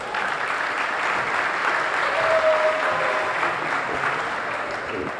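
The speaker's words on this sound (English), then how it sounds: "would you please a round of applause for Ben Edwards" Audience at a high school girls' volleyball senior recognition night applauds the scorekeeper, a steady wash of clapping that swells slightly midway and holds, with no speech over it.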